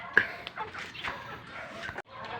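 Basilan native and Rhode Island Red crossbred chickens, five birds, give faint scattered clucks and short calls at close range over quiet background noise, with a brief thump partway through.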